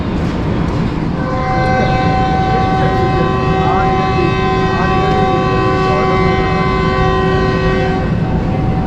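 Shalimar Express train whistle sounding as it departs Raiwind railway station near Lahore: a loud, sustained multi-tone horn held for several seconds over the steady rumble of the train.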